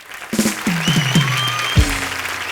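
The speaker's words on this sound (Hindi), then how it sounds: "परिणीति चोपड़ा के लिए जोरदार तालियां हो जाएं।" An audience applauds Parineeti Chopra at a comedy show, with loud sustained clapping mixed with a descending musical sound effect.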